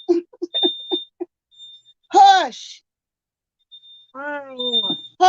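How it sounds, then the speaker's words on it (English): A kitchen smoke detector chirps falsely with no fire, giving repeated thin, high, steady beeps in short bursts, while people talk and sigh between and over them. "That fire alarm be lying."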